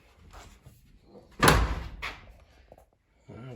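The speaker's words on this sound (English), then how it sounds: "this door actually closes pretty good" The door of a 1970 Chevelle swings shut with one solid thunk midway, preceded and followed by faint handling noises.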